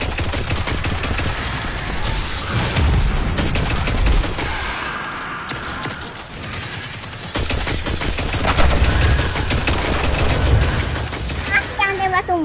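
Video game gunfire sounds as rapid, sustained bursts of shots, loud and close, continuing for several seconds while voices talk over the action.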